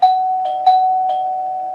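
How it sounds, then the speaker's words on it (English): A doorbell rings twice, two clear ding tones spaced apart with a sustained ringing tail, loud and close, used as a sound effect in a spooky story narration with no voices over it. "But late that night, Beck's doorbell rang twice."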